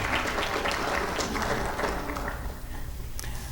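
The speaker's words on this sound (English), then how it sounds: "So now, round of applause, please" Audience applause at an interfaith Ramadan program, with steady clapping filling the hall for a few seconds and gradually thinning toward the end.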